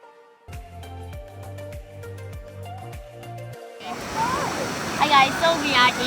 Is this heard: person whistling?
no